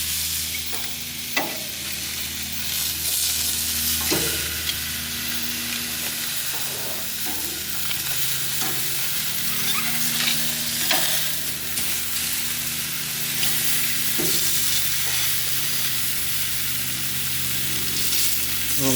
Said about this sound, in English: I'm going to turn them over, sear the other side.